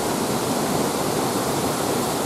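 Fudo Falls in Higashiagatsuma, Japan, roars in a dense, steady wash of noise, loud and close, with no breaks.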